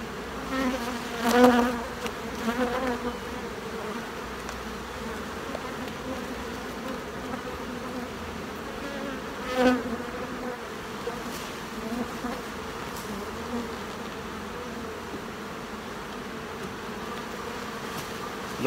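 Honeybees swarm around a frame during a July hive inspection, a continuous close droning buzz with a few louder passes of single bees flying near.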